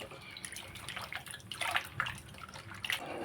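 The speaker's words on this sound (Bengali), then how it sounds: "তারপরে আমি আবার একবার নর্মাল জলে ধুয়ে নেব।" Fish washed in plain water in a bowl or sink, with faint splashing and dripping that comes in soft bursts, quiet and close, without any voice over it.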